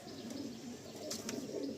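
Pigeons in a loft coo softly with a few faint chirps over a dull steady background, fairly quiet and without speech.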